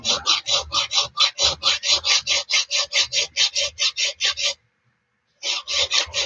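Steel file drawn along the sides and flats of a Friedr Herder straight razor blade, a steady rhythm of about two dozen close, even rasping strokes, a brief pause, then the strokes resume.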